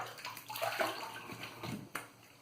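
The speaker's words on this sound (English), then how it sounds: "Gonna rinse up and go for a cleanup." Running water splashes and sloshes as a shaving razor is rinsed under it between passes with Proraso White lather. The sound is a brief, close, fairly quiet gush with small splashy bursts.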